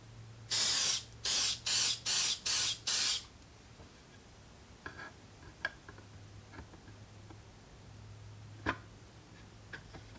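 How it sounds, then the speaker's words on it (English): Clear lacquer sprayed from an aerosol can onto a piece for a lid comes in five short hissing bursts with brief gaps between them, followed by quiet handling ticks and clicks. "hit it with some clear lacquer just to keep it from going green so quickly"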